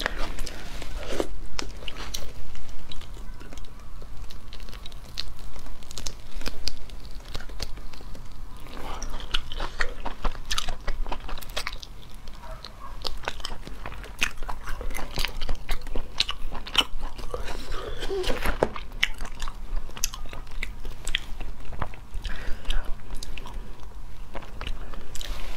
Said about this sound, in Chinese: 这个是肚包脑，我第一次吃